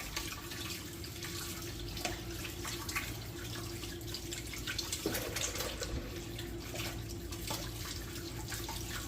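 Tap water running steadily into a kitchen sink during hand washing, a continuous close splashing rush with faint clinks, no talk.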